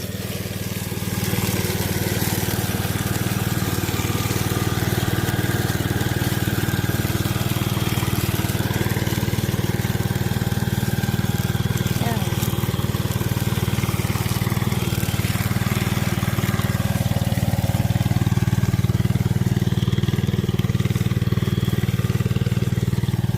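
A garden cultivator fitted with a garlic digging attachment runs in a field, its engine giving a loud, continuous, rough drone that holds steady throughout with no pauses and no talking.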